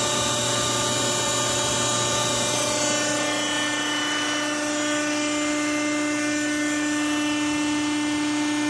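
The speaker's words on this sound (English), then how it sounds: "I'll also show you the hydraulic motor that's on here." The hydraulic motor of a Wysong H4052 CNC press brake runs with a steady, loud industrial whine and hum. It holds constant throughout, up close, with no talking.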